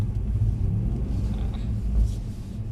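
A Mercedes C63 AMG drifting on a wet skid pan gives a deep, steady engine rumble that swells slightly midway, heard alone with no talk.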